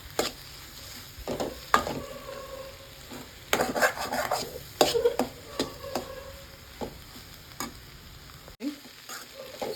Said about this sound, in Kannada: ಚೆನ್ನಾಗಿ ಉದ್ದುದ್ದಾಗಿ ಹುರ್ಕೋಬೇಕು ಮೊಟ್ಟೆನ